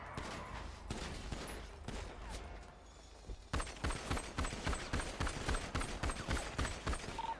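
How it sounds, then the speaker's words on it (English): Rapid gunfire in the GTA roleplay game, a long string of sharp close shots in quick bursts, sparse at first and then dense and regular in the second half. "We're shooting."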